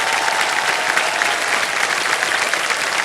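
Studio audience applauding on a quiz show set, KBC season 16, a steady, dense burst of clapping that runs evenly for about three seconds with no talk over it.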